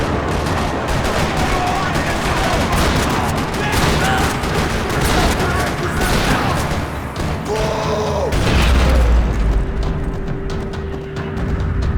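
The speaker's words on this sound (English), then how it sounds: "Another parking lot rattling with gunfire." Video game gunfire rattles across a parking lot in Max Payne 3, with rapid bursts and automatic fire, dense and loud, plus a heavy boom and mechanical clatter near the end, beneath faint voices.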